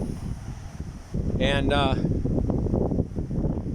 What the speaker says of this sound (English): I know it's real windy right here